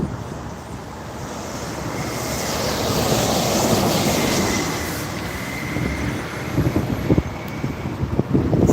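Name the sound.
subway train passing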